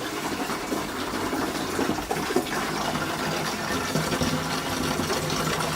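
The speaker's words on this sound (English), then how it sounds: "I've actually got a pump here, which I will switch on" A liquid pump pushes banana beer through a hose into a fermenter, giving a steady, dense whirring and gushing that runs continuously and evenly throughout.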